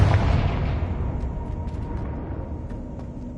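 A Confringo blasting spell going off in the Hogwarts Legacy video game: a single loud, close explosion at the start that rumbles and slowly decays, with faint sharp crackles trailing after it and no talk.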